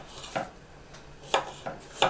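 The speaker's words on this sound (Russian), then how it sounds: "Надо нарезать яблоки." A knife cuts apples in a few sharp, separate strokes, each a short crisp crunch with pauses between.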